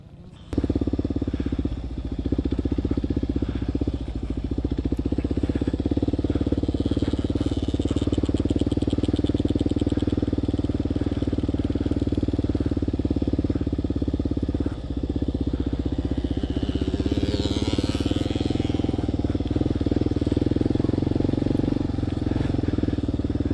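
Motorcycles ride laps on a practice track as riders work on steering with their feet. Their engines drone loud and close without a break, with small surges and some mechanical clatter.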